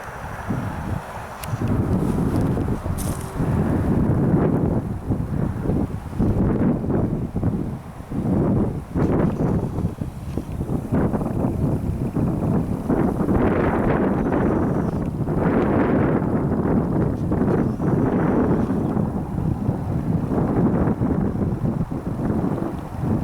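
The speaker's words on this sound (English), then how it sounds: "Very windy, a little bit chilly." Strong wind buffets the microphone throughout, a loud continuous rumbling roar with gusting surges and no voices.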